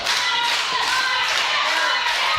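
A wrestling crowd roars steadily for the home favorite, Martin Casals, during a UCW match, a loud continuous cheer filling the arena with no pause.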